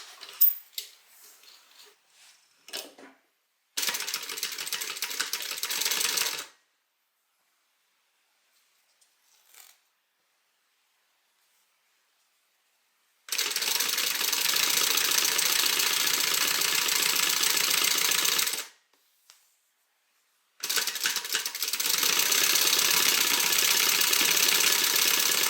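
A sewing machine stitches a fabric piece in loud, sustained runs of rapid whirring, with silent pauses between the bursts.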